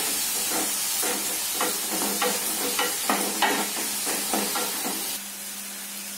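Onions sizzle steadily in a hot pan while a spoon repeatedly scrapes and taps as they're stirred, the frying hiss continuing throughout.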